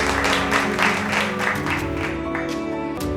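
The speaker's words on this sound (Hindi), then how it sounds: "तालियों की गड़गड़ाहट से यह हॉल गूंजता रहे" Applause from an audience filling a hall at an evening celebration, a dense wash of clapping that stays steady and fairly loud for a few seconds.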